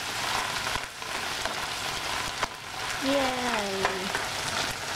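Shrimp adobo finishing in a pan with its sauce returned, a steady sizzle and frying hiss with stirring, and a brief cheerful exclamation partway through.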